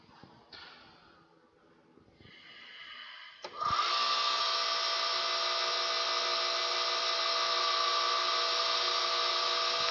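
Ebony pen blank being burnished on a lathe: quiet handling noise, then the lathe starts with a sharp jump into a loud, steady high-pitched whine that holds to the end.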